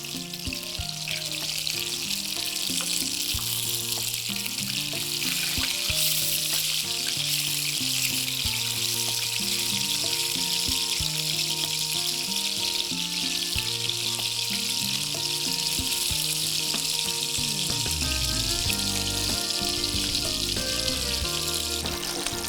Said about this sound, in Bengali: এখন মাছগুলো আমি উল্টিয়ে দিচ্ছি।